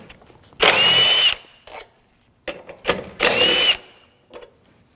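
A power tool with a 10mm socket zips bolts out on a 2007-2013 BMW 328i 3.0L L6 air box, two loud whirring bursts a few seconds apart, each followed by short clicks and rattles.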